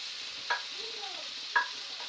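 Mushrooms frying in a pan alongside sautéed potatoes, a steady bright sizzle with two brief utensil clinks against the pan and a faint squeak, no talking.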